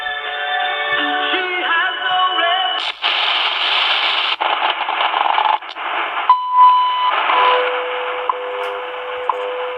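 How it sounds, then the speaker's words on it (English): A Pronly PR- AM/FM shortwave radio is tuned to the WWV time signal station at 5 megahertz: loud static and whistling shift as the dial moves, then a steady tone and faint ticks come through the noise. "There's 5 megahertz WWV."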